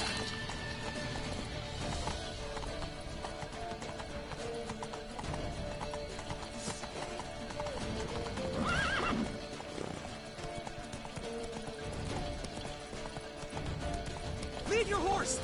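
Horses gallop with rapid clip-clopping hooves and neigh during a chaotic battle in The Witcher video game, layered under shouting voices and dense action noise.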